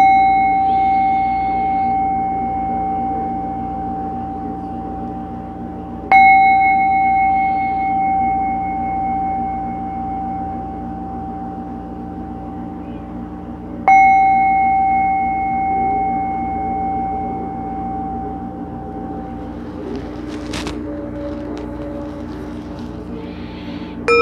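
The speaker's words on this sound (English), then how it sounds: "listen to the bell" A meditation bell rings during a tai chi and qigong session, struck three times at long intervals, each clear tone ringing out and slowly fading over a quiet hum.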